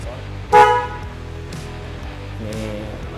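A single short horn beep from a Royal Enfield Meteor 350 motorcycle sounds close by at the start, then engine or mechanical hum continues quietly with faint clicks.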